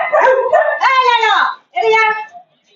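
Stray dogs bark and yelp loudly and close by in a few rapid bursts, their cries rising into whining, howl-like tones between short pauses.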